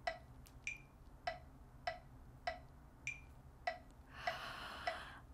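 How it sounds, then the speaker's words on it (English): Metronome ticking at 100 bpm, a sharp click roughly every 0.6 seconds, faint and steady, with a soft breath or hiss near the end. "you're going to set your metronome at 100"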